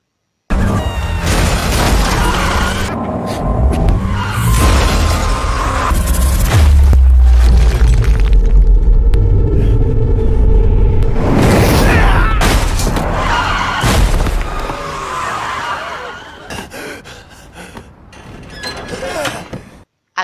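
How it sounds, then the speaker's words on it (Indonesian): A car chase with a fleeing taxi, tires skidding, engines roaring and heavy mechanical crashes and booms layered loudly and continuously, easing off toward the end. "Gauji yang menyadari Zoke kabur menggunakan taksi, segera mengejarnya"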